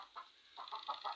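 A village hen clucks just after laying an egg, giving a quick series of short, bright clucks that grow busier toward the end, close by with no talking.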